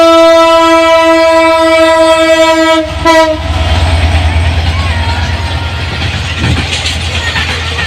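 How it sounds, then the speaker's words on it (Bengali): A large Indian freight train hauling many wagons blasts a loud, sustained horn, then its heavy rumble and clatter roll past close by, steady and continuous to the end. "বড় রেল এটা ডাব্বা বিশাল বড় মনে হয় ইন্ডিয়ান গাড়ি মাল নিয়ে আসতেছে"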